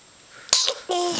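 A baby's small, sharp sneeze bursts out, followed by a second brief noisy breath and a short vocal sound, close to the listener.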